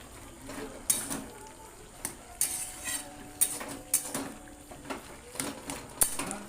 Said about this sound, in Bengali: একটু ঘেটে ঘেটে নিচ্ছি